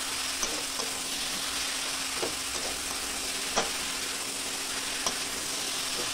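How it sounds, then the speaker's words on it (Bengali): Cabbage frying in a pan gives a steady, close, dense sizzle, broken now and then by faint scrapes and taps as it is stirred. "বাঁধাকপিটা একটু ভালো করে ভেজে নিতে হবে, তাহলে কিন্তু বাঁধাকপির টেস্ট অসাধারণ হবে।"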